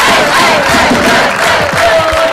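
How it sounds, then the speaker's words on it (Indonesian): Crowd at an Indonesian school quiz olympiad applauding and cheering for team A, a loud, dense, continuous roar of clapping and voices filling the whole moment. "Tepuk tangan untuk tim A."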